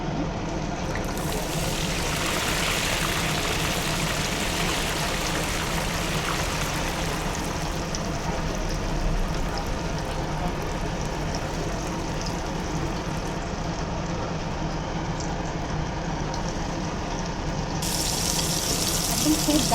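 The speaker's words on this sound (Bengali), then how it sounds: "এবার আমরা একটা একটা করে ফ্রাইগুলোকে ভেজে নেবো। তেলটা গরম হয়ে গেছে" Fish fry pieces cook in hot oil in a home kitchen, giving a steady, loud hiss and crackle that runs without a break, with a brighter burst near the start and again at the end.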